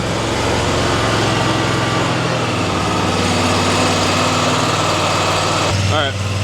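A Bad Boy Maverick HD mower engine idles steadily and loudly nearby, its even drone lasting throughout, with a brief change at the end. No clear start-up is heard.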